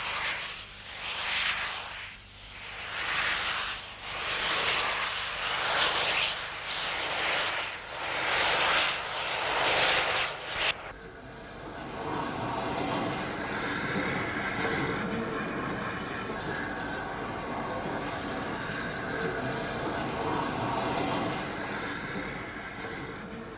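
A heavy steam locomotive pulls away from Astorga, Spain, with loud rhythmic chuffing that blends into a steady, roaring rumble as it gathers speed, with no voices.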